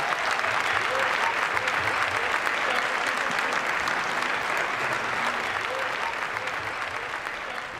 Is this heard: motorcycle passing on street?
no